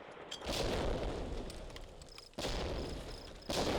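Grenade blasts and gunfire from Medal of Honor Allied Assault on the Rockbound map, a loud burst at the start, another sharp hit mid-clip and a third near the end over steady battle noise.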